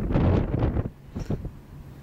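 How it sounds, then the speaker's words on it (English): Gusty wind buffets the microphone in low, rumbling bursts, strongest at the start, then fading to a softer rush with a brief second gust. "It's kind of windy."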